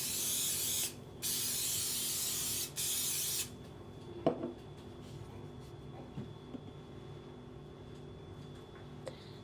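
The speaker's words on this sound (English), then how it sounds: "Now I'll lightly grease my bench top and my rolling pin." Three long bursts of spray oil hiss loudly onto a bench top and rolling pin while making date bagels, each lasting about a second with short gaps between them, followed by quieter kitchen handling clicks.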